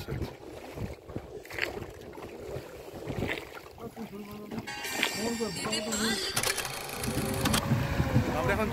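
A motor launch crosses the Maithon dam lake, its engine a continuous drone with water rushing along the hull, growing louder and busier toward the end as people talk nearby.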